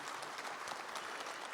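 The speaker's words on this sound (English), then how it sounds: "Honorable Mavetera, may we please give a round of applause" Round of applause for Honorable Mavetera at an SMEs and cooperatives indaba in Zimbabwe, a steady, dense clapping from a seated audience, fairly quiet and even throughout with no voices over it.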